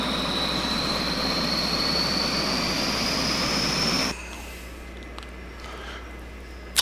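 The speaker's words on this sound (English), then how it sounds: "the APU is starting up" The auxiliary power unit of a simulated Dash-8 turboprop starts up in the Prepar3D flight simulator, a loud rising turbine whine over a steady roar that drops to a quieter hum midway, followed by a few faint clicks.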